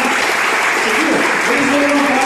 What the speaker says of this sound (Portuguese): Eu queria que vocês aplaudissem os voluntários